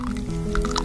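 Water splashes and squishes while freshly dyed wool, coloured in water and then in an iron solution, is rinsed. It is a brief, close wet sloshing with soft drips.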